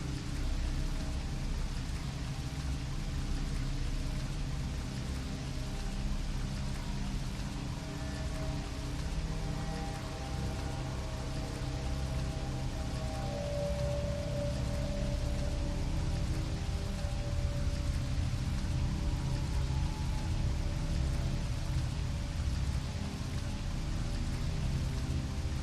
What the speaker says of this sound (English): the sound of water hitting the windows seems to seep into your soul